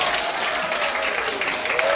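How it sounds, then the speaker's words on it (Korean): A concert audience at a singing-class anniversary show on a cruise applauds, loud, dense clapping from a large crowd filling the whole stretch, with a faint sustained tone underneath. "박수 한번 쳐주세요"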